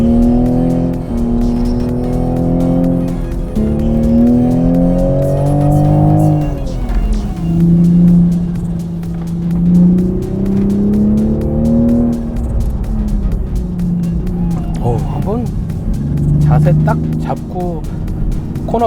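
A fifth-generation Toyota GR Supra is driven hard out of a corner. Its loud, close engine note climbs and falls in repeated sweeps as the throttle is worked, with a continuous roar throughout.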